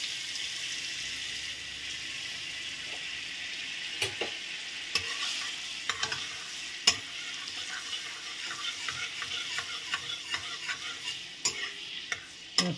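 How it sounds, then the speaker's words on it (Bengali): Butter and oil sizzle steadily in a wok, a constant close frying hiss broken by clicks and scrapes of stirring, with no talk. "তো এই যে আমি বাটারটা দিয়ে দিলাম কড়াইতে।"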